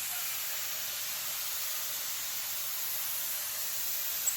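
An HVLP paint gun spraying lacquer, giving a steady, close, continuous hiss with no breaks and no voices.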